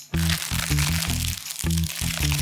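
Stiff pages of a Legend of Zelda Prima collector's guide book bend and crease with loud, crackly crunching in several quick bursts, a low steady tone running underneath.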